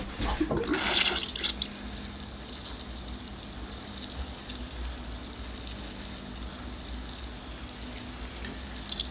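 A steady stream of water pours over newly planted bonsai seedlings in fresh bonsai soil, a continuous close hiss and patter starting with a brief louder splash.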